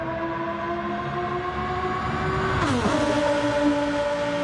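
A race car accelerates hard down the long straight at Fuji in a racing game, its engine note climbing steadily. A sharp gear change comes near the end, and the engine keeps pulling loudly and close throughout.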